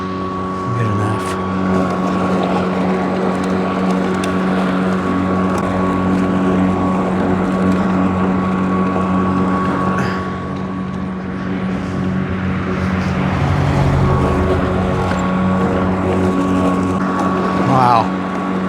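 A lawn mower engine drones loud and steady while cutting thick grass outdoors, its pitch dipping slightly as it bogs, with brief wind buffeting but no clear talk.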